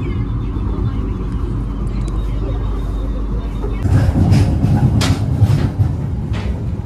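Fajar Utama Yogya passenger train pulling into Bumi Ayu station, a steady low rumble of wheels and carriages that swells louder and rougher midway, with busy station noise and murmuring voices around it.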